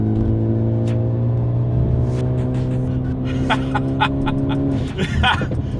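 A Ford Focus ST on supercar tires drives a curvy road in Mexico, its engine droning steadily up close and then dropping in pitch as it eases off toward the end, with a gasp or breath near the finish.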